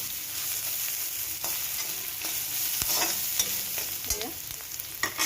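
Crushed ginger and garlic fry in a pan for an Assamese fish curry, a continuous hiss of sizzling oil broken by scattered spatters and stirring scrapes, close by.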